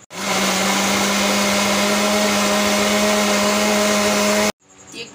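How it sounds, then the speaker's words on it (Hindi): An electric grinder whirs steadily while blending cooked mango for squash, a loud continuous motor drone that holds for about four and a half seconds and then cuts off abruptly. "अब हम इसको ग्राइंड करेंगे।"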